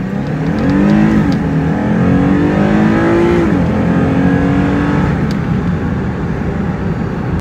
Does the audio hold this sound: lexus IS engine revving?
yes